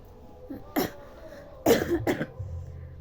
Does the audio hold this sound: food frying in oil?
no